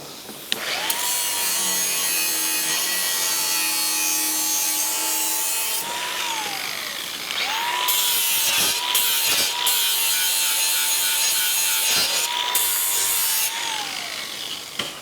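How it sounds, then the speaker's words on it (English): An angle grinder works the metal of a rusty 1958 car, a loud, steady abrasive whine held for several seconds, a brief pause near the middle, then grinding resumes with scraping bursts. "Hit it with a grinder a little bit."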